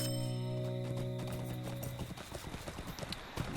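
Horse hooves gallop in a steady clip-clop rhythm while riding through Lord of the Rings Online, close and continuous over a low game ambience.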